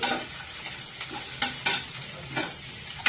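A wok of browned fried onions with chopped tomato being stirred in, several scraping stirs over a steady close sizzle, no talking.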